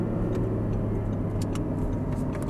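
An Audi R8 engine pulls at full throttle with a steady low roar from inside the car and a few faint ticks, constant in loudness for a short stretch.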